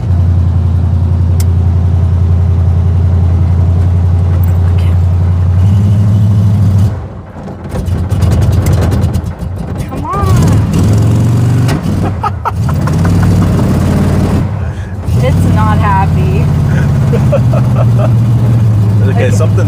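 A 1956 Chevy Bel Air hot rod engine with a carburetor problem runs rough, a loud close idle that stumbles and dips, with people talking over it partway through.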